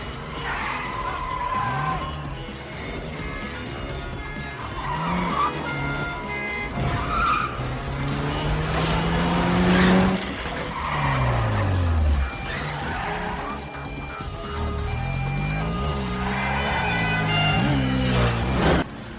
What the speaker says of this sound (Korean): 좁은 도로를 유영하듯 미끄러지는 깔끔한 드리프트